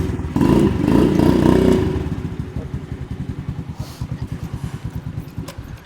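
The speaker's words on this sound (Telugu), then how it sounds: "చూశారు కదా, బండి స్టార్ట్ చేయడానికి కూడాను పుష్ బటన్. ఇక్కడ ఈ బటన్ నొక్కితే స్టార్ట్ అవుతుంది." Custom car-bodied bike with a Royal Enfield engine starting by push button: a brief whirring crank, then the engine catches and settles into a loud, close, steady thumping idle.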